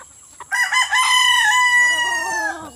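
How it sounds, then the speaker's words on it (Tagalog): A prize gamecock crows once, loud and close, a long drawn-out cock-a-doodle-doo after a soft cluck. "Ang gandang manok."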